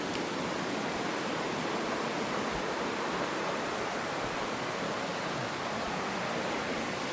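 River water flowing steadily at a slave river site in Assin Manso, a dense continuous broadband rush that stays even and fairly loud throughout.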